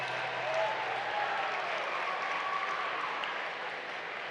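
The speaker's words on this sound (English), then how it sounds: "How about a round of applause for the team at Real and the meal that they put together for us tonight?" Dense audience applause fills a room at an awards dinner, a steady wash of many hands clapping at moderate distance that holds evenly throughout with no voices standing out.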